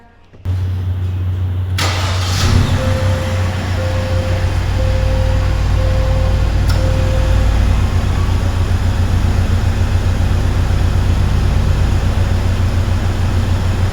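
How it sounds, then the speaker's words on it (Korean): A 2024 Genesis GV70 engine starting: a brief cranking catch, then a loud, steady close idle hum that holds to the end, with a faint chime tone early on. "제가 이제 바로 디테일하게 시동부터 걸어보도록 하겠습니다"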